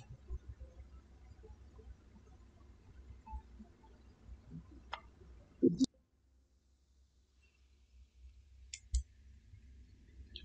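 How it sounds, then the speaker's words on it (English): A computer mouse gives a few sharp, close clicks, spaced apart, over a faint low background hum. There is a short cluster midway and another pair near the end. "click on apply and click on ok"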